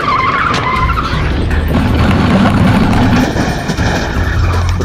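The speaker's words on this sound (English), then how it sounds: "we have the SWAT vehicle drives through probably 10 cars" SWAT vehicle crashing through a line of parked cars in a film stunt, a loud continuous roar of engine and grinding, scraping metal with tire squeal, close and unbroken.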